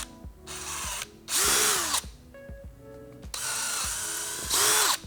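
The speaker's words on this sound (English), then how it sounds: "with this largest drill, we're only drilling out the outside holes and not the middle" A power drill bores holes through a Honda Grom fender eliminator bracket, running in loud whirring bursts with short pauses and spin-downs between them, close up and without talk.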